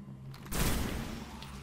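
A pulse rifle fires in the first-person shooter Destiny: a sharp, loud burst hits midway through after a brief quiet lead-in, then rings down in a short decaying tail.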